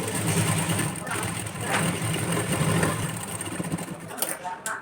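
A sewing machine stitches a padded blouse with a fast, continuous mechanical whirr, close and fairly loud, with brief irregular pauses near the end.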